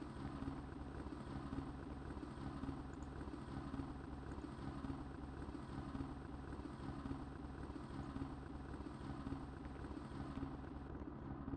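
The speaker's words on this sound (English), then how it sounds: "Particularly that helicopter because it kind of like sounds wrong, like the rotor's wrong in it." Helicopter in the video game Project Zomboid flying overhead, a steady rotor drone with regular thumping pulses holding at an even, moderate level throughout, no voices.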